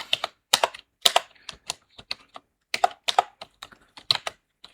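Someone types on a computer keyboard in a word processor, producing a close, crisp run of separate key clicks in two short bursts with a brief pause between them.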